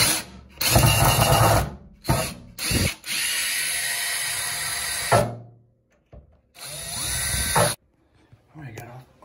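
A cordless power drill backs screws out of an old bathroom light fixture, sounding in loud whirring bursts of a few seconds each with short pauses and ratcheting between them, close to the listener.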